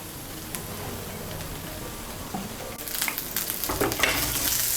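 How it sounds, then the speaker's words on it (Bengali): Half a spoon of ghee being stirred into bitter gourd in a pan, with a low steady sizzle that gets louder and sharper toward the end as the spoon scrapes and mixes. "ঘিটাকে মিশিয়ে নিলেই তৈরি উচ্ছের তিতঝুরি"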